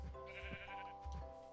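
Sheep in the Minecraft video game bleat twice in quick succession, a pair of nasal, wavering calls from an animal penned on a farm, close and fairly quiet with no talk over them.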